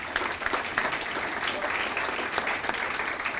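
Audience applause at a hall of fame ceremony, a dense, loud, steady clapping from a crowd that fills the whole moment without pause.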